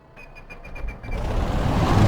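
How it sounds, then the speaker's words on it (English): A P-38 Lightning engine in a flight simulator is cranked with a few rhythmic starter pulses, then catches and swells into a loud, rough, continuous roar that builds over the final second. "So the engine roaring into life."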